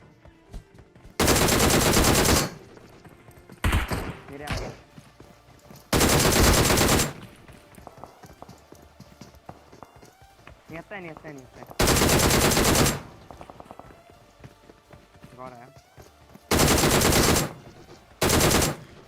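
Bursts of automatic gunfire from a battle royale shooter video game come in four loud sustained volleys of one to two seconds each. Scattered fainter shots and game effects fill the gaps between them, and a voice is heard briefly.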